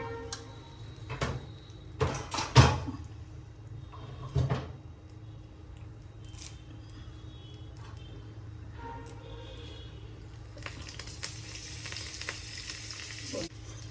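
Toor dal, urad dal and chana dal crackle and sizzle in hot oil for a tempering, a steady close fry broken by a few loud clatters and knocks early on, with the hiss swelling louder toward the end.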